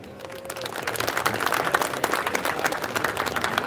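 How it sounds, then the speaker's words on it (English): A warm round of applause from an audience at a live university gathering at Karnatak University Dharwad, dense steady clapping that swells and holds throughout with no voices on top. "Let us take a moment to appreciate this wonderful gathering with a warm round of applause."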